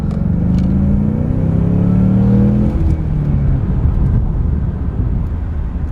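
A newly bought car revs hard in second gear, its engine roaring loud and close with a steady droning pitch that rises and then settles over several seconds.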